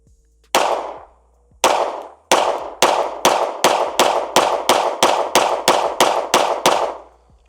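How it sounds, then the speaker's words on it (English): A Springfield Hellcat Pro Comp pistol fires a string of sharp, loud gunshots close by: two spaced shots, then a rapid, even run of about a dozen more with ringing tails, no talk. "Let's put another mag in it and keep shooting."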